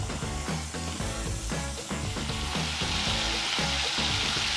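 Pork pieces sear in hot oil in a pan, giving a steady, close sizzle that holds without a break from start to finish.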